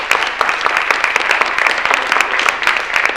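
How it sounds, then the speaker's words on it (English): A closing round of audience applause at an Indigenous voices event, steady dense clapping filling the whole stretch without a break. "Once more, a round of applause."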